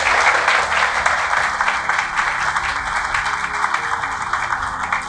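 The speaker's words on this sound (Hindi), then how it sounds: "तो अपने आप के लिए एक बार जोरदार तालियां बजाइए।" A class of students claps loudly and continuously, a busy rattle of many hands that stays strong throughout and thins only slightly toward the end.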